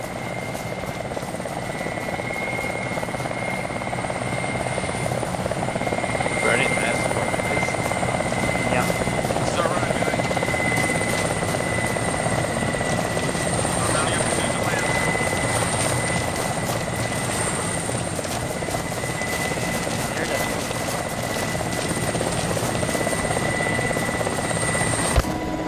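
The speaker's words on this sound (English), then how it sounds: "We're gonna wait for the chopper to land." A helicopter in the Arma 2 video game comes in to land, its steady rotor drone and engine whine holding loud and constant throughout.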